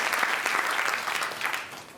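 Audience applause at a business talk on scaling with OKRs, a brief burst of many hands clapping at moderate loudness that tapers slightly toward the end.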